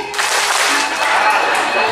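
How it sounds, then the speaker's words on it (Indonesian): An audience at a Balinese drama gong performance claps in a dense, continuous burst that holds steady for about two seconds, with no voice over it. "Tepuk tangan 2 kali."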